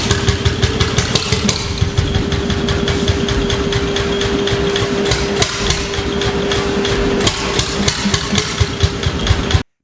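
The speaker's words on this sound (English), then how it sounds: "this single-cylinder semi-diesel marine engine resumed operation after 2 decades in a scrapyard" A two-stroke single-cylinder semi-diesel marine engine, revived after two decades in a scrapyard, runs steadily with loud, rapid, even knocking beats and a constant mechanical hum throughout, with no voices.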